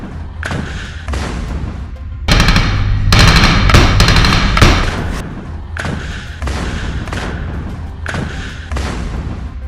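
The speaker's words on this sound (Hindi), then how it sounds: "रॉकेट लॉन्चर से एक गोला दागता है, जिसके बाद बहुत बड़ा धमाका होता है" Heavy explosive blasts and booming thuds in quick bursts, with a dense loud stretch in the middle, like rocket launcher fire and explosions in a street battle in the Israel–Hamas war.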